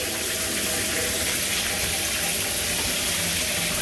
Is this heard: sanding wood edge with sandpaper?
no